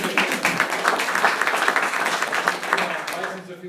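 Round of applause from a small group during an insurance sales training session, a steady dense patter of clapping lasting several seconds at moderate level with some voices mixed in.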